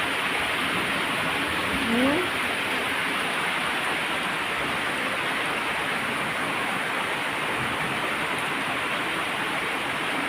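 Steady, dense rainfall hisses continuously at an even level throughout, a thick wash of falling water with no pauses, water reaching a terrace and flooding.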